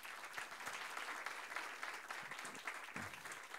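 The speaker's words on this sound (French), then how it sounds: "je voudrais qu'on fasse un petit temps d'applaudissement" A French conference audience gives a sustained round of tribute applause, dense and even clapping that fills the hall throughout at a modest level.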